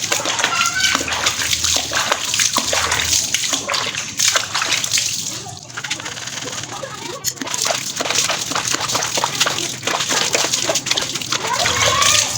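Water runs steadily over a Suzuki Address scooter air filter as it is rinsed after scrubbing, a constant close splashing and sloshing that fills the whole stretch with no talk.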